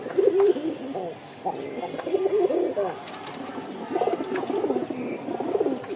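A male pigeon coos in repeated short, throaty bursts close by, with faint background rustling between calls.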